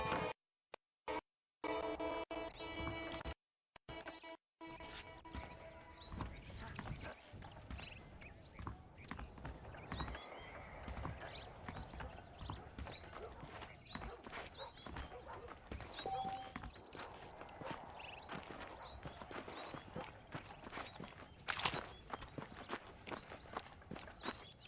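Quiet clip-clop of horse hooves walking in Red Dead Redemption, a steady soft plodding rhythm under ambient game sound, starting after a few brief dropouts and continuing for the rest of the stretch.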